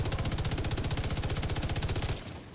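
Sustained automatic gunfire from a weapon firing on an enemy in The Division 2, a rapid, even burst of shots that stops abruptly near the end, leaving a short tail.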